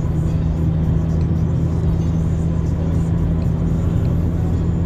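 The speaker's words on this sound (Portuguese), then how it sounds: "Hoje você vê que o trânsito está bem mais tranquilo." Steady street traffic in Maceió, Brazil, a continuous low rumble and whir of cars and buses moving along a city road, constant and fairly close, with no distinct pass-bys standing out.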